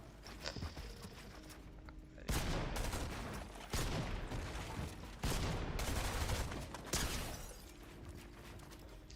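Shotgun blasts in a Fortnite solo cash cup match, heard as several loud, sharp shots spaced a second or two apart amid busy game noise.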